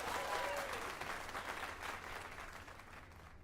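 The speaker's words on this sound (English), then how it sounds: "Let us give a round of applause for young Fulvio" Steady crowd applause in the video game Dragon's Dogma 2, a dense wash of clapping that fades slightly toward the end, with no one speaking over it.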